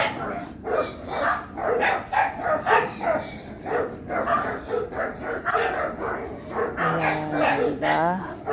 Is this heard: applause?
no